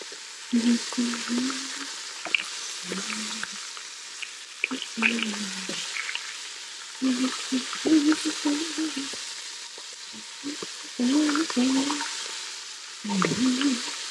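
Short ribs sear in a Ninja Foodi with a steady, close sizzle, broken by clanks and scrapes of tongs as the pieces are flipped, while a person talks intermittently over the frying.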